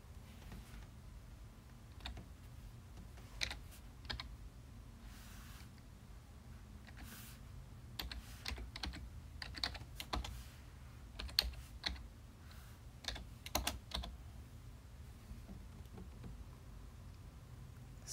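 Keys clatter on a computer keyboard in short bursts of typing with pauses between, quiet and close in an otherwise still room.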